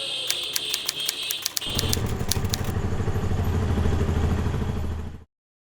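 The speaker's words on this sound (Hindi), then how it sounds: "क्या भाई, कितनी तेज बाइक चलाते हो?" A motorbike ridden fast roars close by, its engine a dense continuous rattling drone that starts abruptly after a few clicks and cuts off suddenly.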